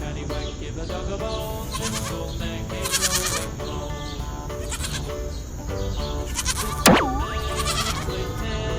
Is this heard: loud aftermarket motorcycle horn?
no